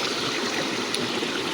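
A river flows steadily in a Kenyan village, a continuous bright rush of water close by with no pauses or voices.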